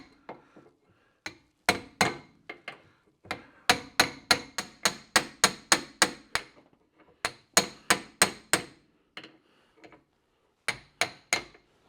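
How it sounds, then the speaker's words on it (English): Hammer blows on a punch driving out idler arm bushings on a Mercedes W126, sharp metallic strikes in quick rhythmic bursts with brief pauses between runs, close and loud, no talk. "we'll see if we can get these out with a punch and a good hammering"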